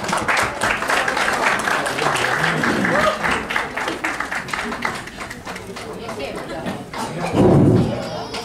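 Audience applause welcoming a speaker at an Independence Day fundraising function for PTI Australia, a dense, fairly loud clatter of clapping across the room, tapering near the end as a voice speaks over it.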